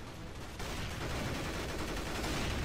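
Rapid gunfire in a Counter-Strike: GO match, a sniper rifle shot among dense, loud, continuous bursts that fill the whole moment with no voices.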